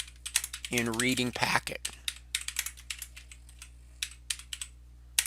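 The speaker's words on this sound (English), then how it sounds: "all you have to do is type documents provided" Irregular clicks of typing on a computer keyboard, close and fairly clear, continuing through a brief spoken phrase near the start.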